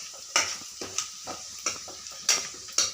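Masala spices and oil being stirred in a pan while cooking masala pasta: a soft sizzle runs underneath as about eight distinct scraping strokes come at an irregular rhythm, with no talking.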